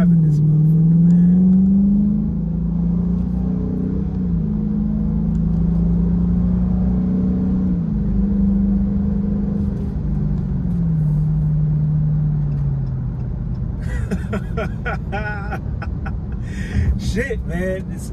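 Dodge Charger engine while driving, a steady low rumble with gentle rises and falls in revs, heard from inside the car, with a brief rattle of other noise near the end.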